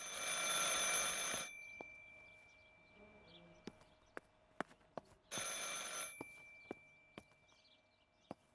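An old-fashioned telephone bell rings loudly in the video game Martha Is Dead, a harsh metallic ring, a pause with sharp footsteps and ticks, then a second ring, set in a quiet room.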